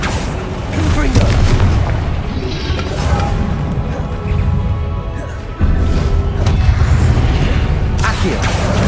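Repeated booming spell blasts from the Confringo fire curse in the Hogwarts Legacy video game, loud and dense over continuous game noise and music, with a sharp burst near the middle.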